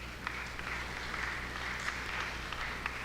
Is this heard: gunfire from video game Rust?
no